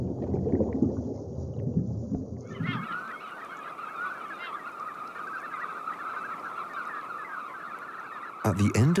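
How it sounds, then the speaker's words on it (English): A huge flock of red knot shorebirds gathers at a Norwegian fjord in late May, a dense, continuous chatter of countless birds calling together. It follows a few seconds of other low sound at the start, with no talk. "At the end of May, huge flocks of knot descend upon the fjord"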